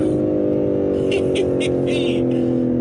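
BMW M3 G80 launching hard under launch control, a loud sustained engine roar with steady low harmonics that stays close and rises in intensity, while a voice speaks over it.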